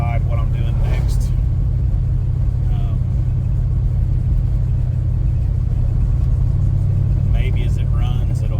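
A Studebaker Avanti sits idling in a driveway, its engine a constant loud low rumble throughout, with a few brief higher sounds near the start and end.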